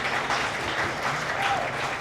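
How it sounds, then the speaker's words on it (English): An audience applauds at a history society annual meeting and award ceremony, a steady wash of clapping filling the short stretch at moderate loudness. "Let's give a round of applause"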